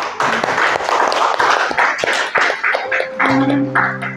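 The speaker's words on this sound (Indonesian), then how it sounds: "Tepuk tangan buat kita semua." Gathered members at a religious talk clapping together in rhythmic, loud, close bursts, with a held musical tone entering underneath toward the end.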